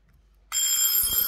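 A wind-up travel alarm clock bursts into a loud, continuous metallic bell ring after a short silent stretch, sustained and close.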